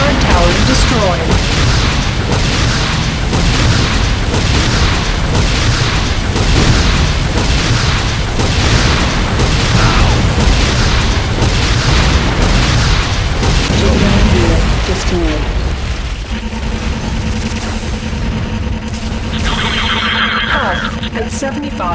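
GDI Advanced Guard Tower being destroyed in the C&C Renegade video game, a rapid series of loud booms and blasts, then mechanical tones, with game voice announcements over it.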